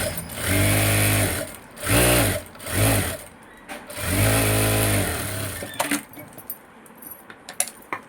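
A sewing machine stitches down a folded fabric edge while finishing the back of a garment, running in four loud, close bursts with short pauses between them, then giving way to light clicks as the fabric is handled.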